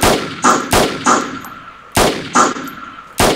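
Gunfire in the video game DayZ: loud, close single shots ring out in an uneven rhythm, each sharp crack trailing into a short decay, with several shots heard over a few seconds.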